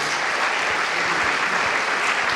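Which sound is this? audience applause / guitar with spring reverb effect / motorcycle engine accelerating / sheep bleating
audience applause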